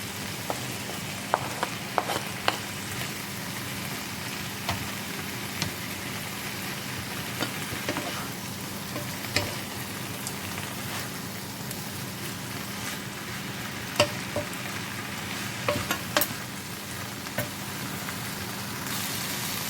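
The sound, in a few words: tomato added and stir-fried in pan with pakchoi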